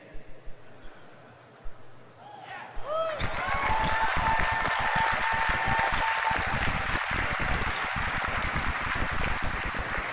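Audience at a Warlords of Draenor game presentation breaking into loud sustained applause and cheering, dense clapping swelling after a few quiet seconds and continuing strongly.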